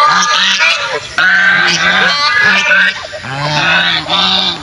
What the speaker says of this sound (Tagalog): So ito yung ating mga pato, gansa.